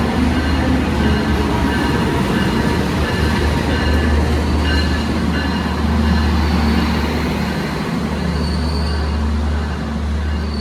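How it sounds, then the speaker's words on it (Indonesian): Jayabaya passenger train with New Generation carriages from Pasar Senen, Jakarta, bound for Malang, rolling into a station: a loud, steady low rumble of wheels and carriages that continues throughout, with occasional faint squeals. "Ini ada kereta api Jayabaya masuk dari Jakarta tujuan Malang."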